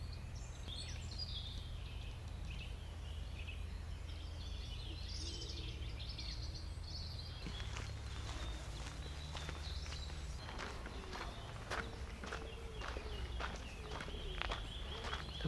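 Quiet outdoor ambience in Boboli Gardens, Florence, with a soft steady hush and faint birdsong, then light footsteps on gravel heard nearby in the second half. No one speaks.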